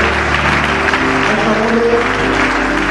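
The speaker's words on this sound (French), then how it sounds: "qu'on acclame pour l'apôtre Léon Kabebo. Acclamons-le, acclamons-le." A church congregation applauds an absent apostle at a worship event, giving a steady, dense wash of clapping over a low musical backdrop, with some voices mixed in.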